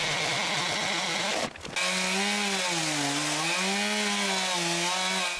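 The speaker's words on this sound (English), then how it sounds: "This goes quite quickly with my big chainsaw." A big chainsaw rips lengthwise through a log to cut wooden planks, engine held at a steady loud whine with slight pitch wavering, briefly dropping out after a second and a half before resuming at full load.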